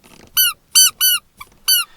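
A rubber duck toy on a carbon fibre ball shifter in a 10th-generation Honda Civic gives four loud, high-pitched squeaks in an uneven rhythm, close up, each a short squeezed honk with a smaller squeak between them.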